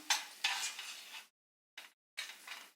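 Apple jam cooking down with sugar in a pan is stirred at home, giving scraping, swishing strokes in several bursts separated by short silences, fairly close and with no talking.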